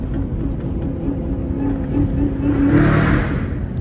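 Chevrolet Camaro ZL1 1LE engine droning steadily on a rainy late-night drive, a continuous low rumble with road and rain noise that swells slightly near the end.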